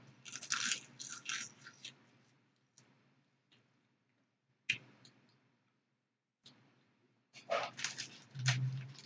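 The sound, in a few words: chewing crunchy snacks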